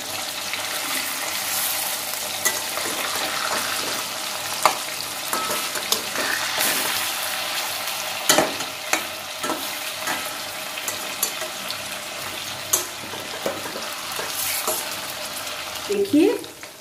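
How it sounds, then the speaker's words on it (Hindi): Aar fish fry in hot oil in a pan and are turned over, a loud continuous sizzle with scattered clinks and scrapes from the utensil, plus a brief clatter near the end. "देखिए मछलियां जो है वो अच्छे से भुन गई है"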